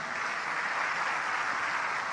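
A church congregation applauding in a sermon hall, a dense, even wash of many hands clapping together at steady volume, with no voices over it.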